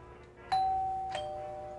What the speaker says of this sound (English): Now, that's a doorbell.